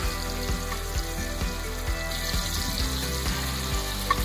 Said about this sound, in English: We're going to sear those on both sides.